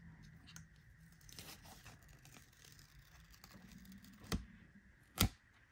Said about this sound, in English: let's go ahead and peel this off and see what it looks like